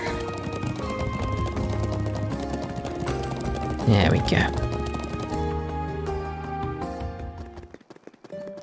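Rhythmic clip-clop of horse hooves trots steadily over background music in the video game Trails of Cold Steel III, while a voice speaks briefly.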